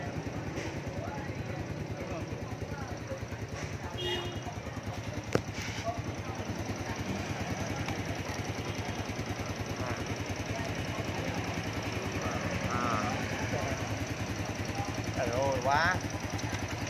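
A 2009 Honda Wave Alpha motorcycle idles nearby with a smooth, steady low engine thrum, while people talk over it.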